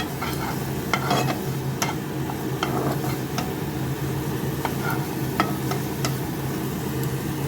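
Spice masala with red chilli powder sautés in a hot pan, a constant loud sizzle broken by sharp clicks and scrapes of a spatula over a low background hum.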